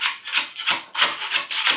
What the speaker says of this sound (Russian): Скребу, ребята, до прочного вот слоя.